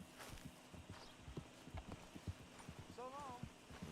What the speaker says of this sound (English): El caballo se aleja, cada vez que tiene la oportunidad